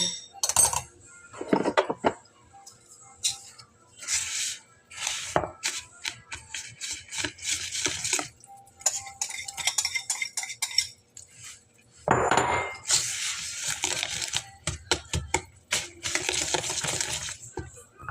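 Waffle batter of eggs and butter being mixed in a bowl, with a utensil clinking and scraping against the sides in irregular bursts, close and moderately loud.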